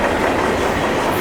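A big mixed manifest freight train on a CSX line at Germantown rumbles by close and loud, its wheels clacking steadily over the rail joints without a break.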